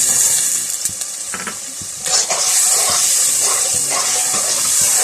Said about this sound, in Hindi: मिक्स करने के बाद बिल्कुल हल्का हल्का हमने पानी डाल के इसको भूनना है।